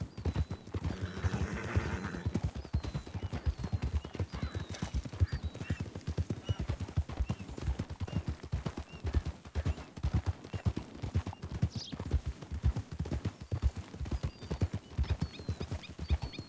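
Horse hooves clip-clop steadily on the ground in a western video game while carrying two riders. The footfalls are even and close, with a brief whinny early on.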